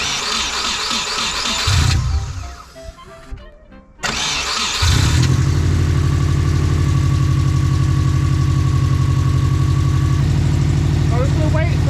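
A Subaru GC8 with a suspected head gasket failure cranks after a short pause, then settles into a loud steady idle with a deep rumble, close up.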